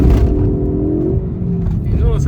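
A 2014 Ford Focus ST hot hatch accelerating hard in second gear, a loud close engine drone rising steadily in pitch, heard under someone talking.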